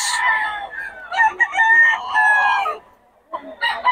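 A blue stag gamecock rooster at a market crows loudly and close, its strained, drawn-out call broken into segments, then starts again after a brief pause; a voice is faintly present.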